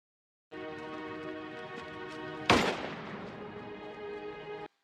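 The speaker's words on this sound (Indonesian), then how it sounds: "Ki-hun pun menembak Sobok hingga rungkad" A single loud gunshot from the Korean film Seobok (2021) cracks sharply over a sustained, droning orchestral score, then decays into a lingering rumble as the music continues.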